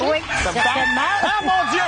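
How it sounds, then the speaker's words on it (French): A loud rooster crowing sound effect on a French-language game show, running almost the whole time over and mixed with excited talk from people on the set. "Est-ce qu'on a entendu le coq chanter?"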